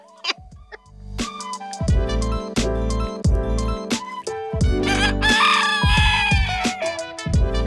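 A rooster and hens on a farm cluck in quick, loud bursts close by, the calls overlapping and growing busier toward the end, with no talking.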